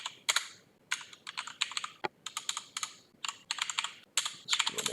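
Terminal commands are typed on a computer keyboard in quick, irregular bursts of close, crisp keystrokes separated by short pauses, with no voices.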